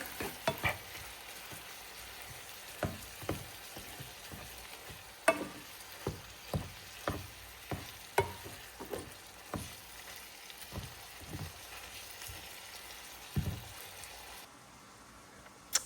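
Seasoned meat sizzles steadily in a pan while a utensil scrapes through it in a regular rhythm of about a dozen distinct strokes, close and moderately loud, with no talking.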